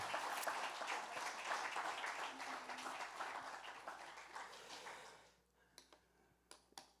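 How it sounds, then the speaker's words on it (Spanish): Church congregation applauding during a Spanish-language sermon, a broad wash of clapping that holds steady for about five seconds, then stops abruptly, leaving a quiet room with a few stray taps. "Dale un aplauso al Señor"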